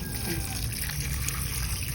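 Steady rush of hot water pouring, continuous and close, with a low hum underneath and no talking.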